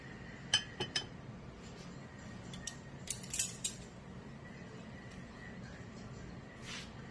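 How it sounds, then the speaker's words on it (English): Utensils clink against a pot as browned pork chops are set back into the liquid for smothered pork chops: a few sharp, quiet metallic taps and scrapes, spaced out over a low background hum. "our very next step is we're going to add our pork chops back to the pot"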